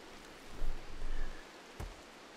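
Rain falling in the video game RimWorld, a steady close wash of noise that swells briefly twice, with a short sharp patter near the end and no voices.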